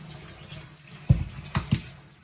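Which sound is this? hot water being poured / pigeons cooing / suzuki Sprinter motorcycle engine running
hot water being poured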